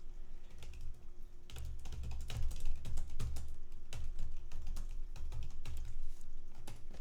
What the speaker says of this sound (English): So I'm typing back